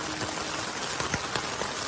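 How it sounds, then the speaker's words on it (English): Heavy rain pours down steadily outdoors, a dense, loud hiss of drops hitting soaked ground with occasional louder splatters, with no voices. "It rains so hard and everything is soaked."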